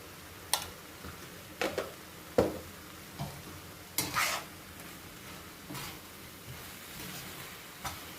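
A spoon stirs cabbage and potato curry in a pan, giving scattered scraping knocks and clinks over a faint sizzle, close and unhurried, with no voices.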